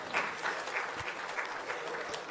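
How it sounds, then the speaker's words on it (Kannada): Audience applause at an awards ceremony in Dubai, a steady wash of many hands clapping at moderate distance, fairly even and sustained without voices over it. "ಸ್ವಲ್ಪ ಜೋರಾದ ಚಪ್ಪಾಳೆ ಬರ್ಬೇಕು everybody"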